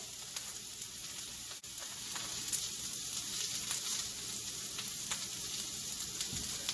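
Cabbage frying and charring undisturbed in a hot pan for a ground pork udon dish, giving a steady, soft, continuous sizzle with faint crackles, quiet and close, with no talking.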